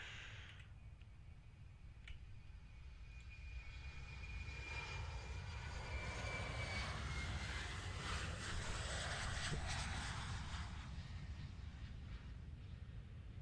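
A simulated airliner landing on a runway in the X-Plane flight simulator: a steady jet engine roar and whine rises and swells, then holds level, continuous and fairly loud, with no voices.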